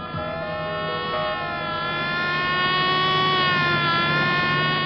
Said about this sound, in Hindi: इस सायरन से आप पर क्या गुजर रही है